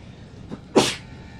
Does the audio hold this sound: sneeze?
yes